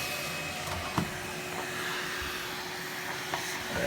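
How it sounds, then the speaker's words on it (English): Numatic Henry Cordless vacuum cleaner running continuously during a house clean, a steady close-up whooshing roar with a faint high whine and a few small knocks as it moves across the floor. "I'm just going to carry on vacuuming like I normally do."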